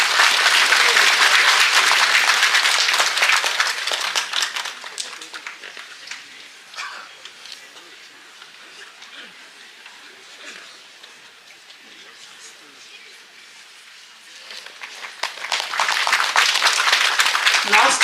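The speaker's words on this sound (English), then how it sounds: "Another round of applause for her, please." Audience applause at a cultural ethnic show, loud at first, fading to a sparse patter in the middle, then swelling again near the end; some faint voices and cheers are mixed in.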